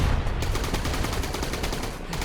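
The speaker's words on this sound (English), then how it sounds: "Fear the wrath of all of my bullets." A mech's guns blazing in the game Mech Havoc, a dense, continuous rapid-fire roar that stays loud and unbroken throughout.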